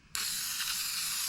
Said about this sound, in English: Get some more spray adhesive. And we're using this 3M